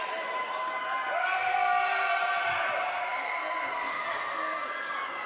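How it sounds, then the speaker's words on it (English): Sustained high-pitched screaming and cheering from a crowd at a Wilmot Wild versus Halton Hills hockey game, a loud, steady wall of voices throughout. "screams from this crowd as the Bulldogs have just 20 seconds left on their power play"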